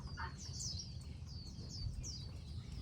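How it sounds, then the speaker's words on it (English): Many small birds chirp among the branches of an orange tree, a scatter of high twittering calls at moderate distance over a low steady outdoor rumble, with no one speaking. "And I hear a lot of birds coming in right now."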